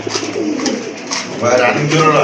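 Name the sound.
male pigeon cooing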